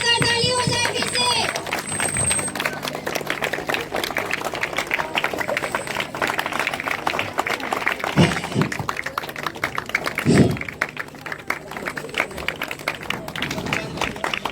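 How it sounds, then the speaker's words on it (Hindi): Audience at a Lakhisarai school and children's welfare association event bursts into applause and cheering, a loud, dense crowd clapping that runs throughout with brief louder swells, while a voice speaks over it. "तो एक बार जोरदार ताली हो जाए फिर से।"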